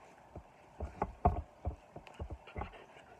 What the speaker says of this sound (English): If you hear nails on the floor, that is my dog Dakota.